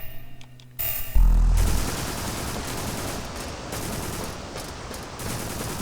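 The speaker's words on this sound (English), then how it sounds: "I'm gonna use my missile launcher." A video game missile launcher fires with a sudden heavy blast, followed by a sustained loud roaring rush of noise that holds steady for several seconds.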